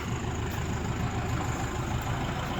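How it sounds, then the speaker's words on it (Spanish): A farm tractor engine runs at a steady, throbbing idle-like rumble while lifting a heavy 6-metre log near a corral, a continuous close mechanical drone without voices. "mira cómo levanta el cepo el tractor aquí de Jorge"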